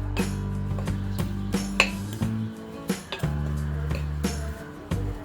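Spoon scraping and clinking against a bowl while cucumber pieces are mixed with mustard powder for a pickle, a string of close, irregular metallic knocks and scrapes with a low ringing tone underneath.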